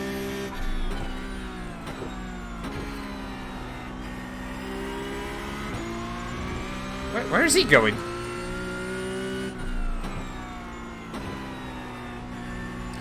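A Porsche Cup race car engine in the iRacing sim at Watkins Glen hums steadily through shifts and lifts, with a brief sharp squeal partway through and someone talking over it.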